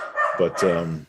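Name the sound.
dog barking in the background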